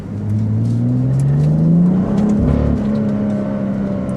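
A BMW X4 M40i xDrive (2017) engine in Sport mode revs up under acceleration, a loud rising drone that climbs in pitch, eases briefly, then keeps pulling steadily throughout.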